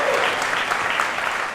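An audience claps together at a Honda unveiling of the Super Cup and Monkey motorcycles, a short, dense burst of applause filling the room.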